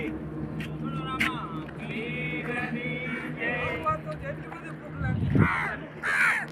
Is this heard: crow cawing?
yes